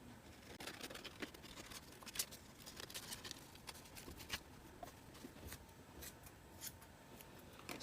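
Scissors snip through fabric while cutting out dress darts, giving quiet, irregular crisp clicks and rustles of cloth at close range with no talk.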